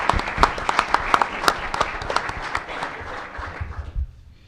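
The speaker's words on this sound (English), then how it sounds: "let's give them another round of applause" Audience applause at a Murray State community event marking the move to the Missouri Valley Football Conference: dense, steady clapping from many hands that tapers off near the end, with no talk over it.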